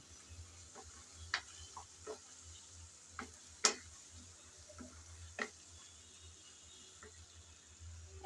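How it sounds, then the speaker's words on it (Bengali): Tamarind stirred into a tomato chutney cooking in a pan: quiet, sparse spoon clicks and taps against the pan over a low simmer, with one louder knock midway. "তেঁতুল দেওয়ার পর কিছুক্ষণ নেড়েচেড়ে ভালোভাবে তেঁতুলটাকে টমেটোর সাথে মিশিয়ে নিলাম।"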